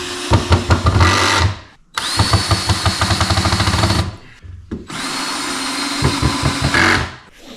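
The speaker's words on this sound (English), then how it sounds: "Bennett, it makes this hole right here so we can put the screw in and hold it in the right spot" A power drill bores screw holes in a wooden sauna bench frame in three loud bursts of whirring and grinding, with short pauses between them and no talking.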